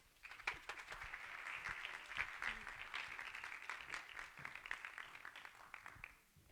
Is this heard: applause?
yes